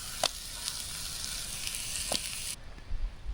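Ham and eggs frying in a pan over an open campfire outdoors, giving a close, steady hiss of sizzling fat with a couple of sharp pops, then the sizzle cuts off abruptly near the end, leaving low rustling.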